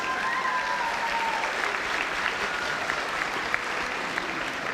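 A graduation audience at an alternative education school claps together in a full, sustained round of applause, with a faint tone drifting through near the start.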